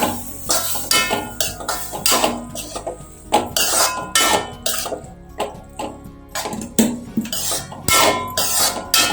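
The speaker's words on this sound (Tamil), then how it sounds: "கறியை சேர்த்து நல்லா வதக்கிக்கலாம்." Mutton and onions sautéed and stirred in a pan for kothu kari, loud close repeated clattering and scraping of a utensil against the pan in an irregular rhythm with sizzling underneath.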